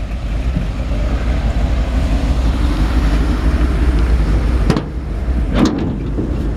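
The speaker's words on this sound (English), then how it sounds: "nice sounding engine. I really like the exhaust." A 1954 Ford F100 pickup with an Oldsmobile 350 V8 idles steadily, its low exhaust rumble loud and close and continuous, with brief wind buffets near the end and no talking.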